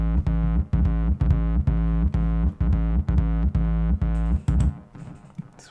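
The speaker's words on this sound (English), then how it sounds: "let's try putting a tape echo sound on" Loud, distorted synth chords pounding in a steady repeating riff with tape echo, the repeats trailing off into a smeared, fading tail at the end; no voices.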